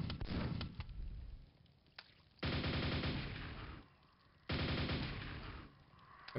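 Super nail gun in Quake firing in rapid mechanical bursts: a brief rattle, then two long sustained volleys separated by short pauses, loud and close with no voices.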